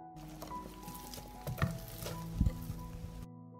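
Meat sizzling as it fries in olive oil in a pan, a steady crackling hiss with a few louder pops and stirring scrapes partway through, close and alone before cutting to silence.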